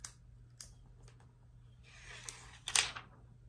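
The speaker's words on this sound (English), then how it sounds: "I am gonna take this sticker off too." A sticker is peeled off beauty product packaging, a short crinkly tearing rasp close by after a few faint clicks and taps in an otherwise quiet room.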